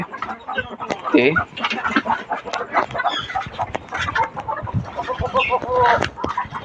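Several hens and a young chick cluck and chatter close by in the evening, with busy overlapping calls, a few louder squawks and faint background voices.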